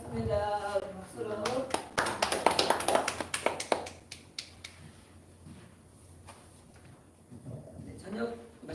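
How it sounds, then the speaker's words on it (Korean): Applause from a church gathering audience: a burst of brisk clapping rises and then fades out, with people speaking before and after it. "박수로"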